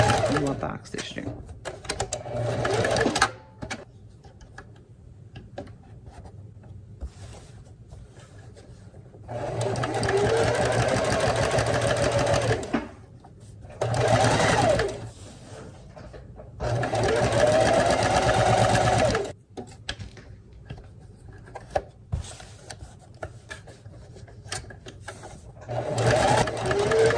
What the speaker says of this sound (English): do a back stitch there.